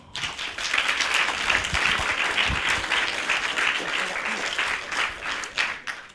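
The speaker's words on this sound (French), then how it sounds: "que je vous demande d'applaudir bien fort" An audience claps loudly and steadily for the costume designer of Touloulou carnival gowns at a closing costume presentation, the dense applause holding for several seconds before tapering off.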